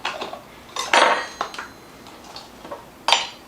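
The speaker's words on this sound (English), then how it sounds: "Kind of push it down into the spoon and then go across the top of the spoon." A metal measuring spoon clinks and scrapes against a container while baking ingredients for a carrot cake are measured, a few sharp close taps and rattles with short pauses between them.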